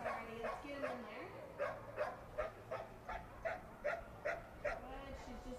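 A herding dog barks while working a small group of ducks into a pen, giving a series of regular, evenly spaced barks and yips at moderate distance, with some whimpering early and talk mixed in.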